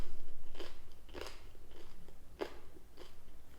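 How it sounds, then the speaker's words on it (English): Crusty baguette torn and bitten in Paris, giving about six crisp crunchy bites at a steady rhythm, close and fairly quiet with no talk. "that's what you want to hear when you rip into a baguette"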